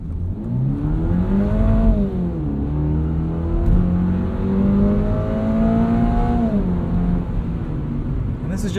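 Engine of a 2022 Subaru BRZ Premium with an automatic gearbox, heard from inside while driving. The steady mid-pitched drone rises and then drops twice as the transmission upshifts, with a constant road rumble underneath.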